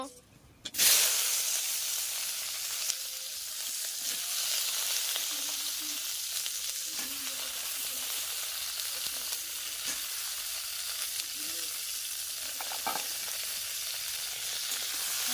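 Jujube plums stirred in a pan of hot spiced oil while making kul pickle; a continuous soft sizzle and hiss runs throughout, with faint scraping stirs, after a brief quiet opening.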